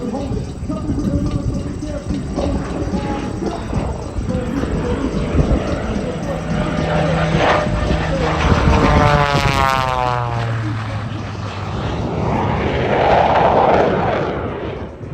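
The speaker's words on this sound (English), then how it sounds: "You're going to see him do things no other biplane can do." A propeller biplane flying aerobatics at an airshow drones and snarls overhead, its engine pitch rising and falling as it swoops and passes, loud throughout with an announcer's voice partly over it.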